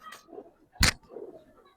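Giribaz and colouring pigeons give two soft, low coos separated by a sharp broadband click, close and quiet.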